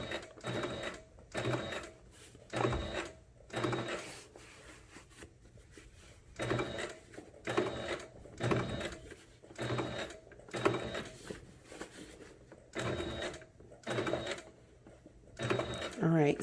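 A sewing machine stitches a patch onto fabric, its needle chattering in rhythmic bursts separated by short pauses, close and fairly loud, with a person speaking between the stitching runs.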